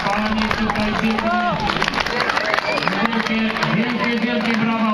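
Spectators at a peace and reconciliation run clap for finishing runners, the applause mixed with crowd noise, a loud amplified announcer and music.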